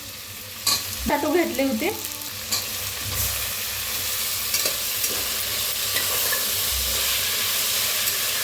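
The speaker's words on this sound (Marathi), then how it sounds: "छान असं भाजून घेऊया" Potatoes fry in a hot pan for masale bhaat with a steady sizzle and hiss, broken by a few clinks and scrapes of stirring near the start. A brief word or two of speech is heard.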